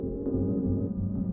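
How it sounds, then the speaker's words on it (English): Muffled city noise heard underwater in a swimming pool, a low steady throbbing hum with dull rumbling swells and nothing sharp or clear above it. "Underwater, all the sounds of the city blur into white noise."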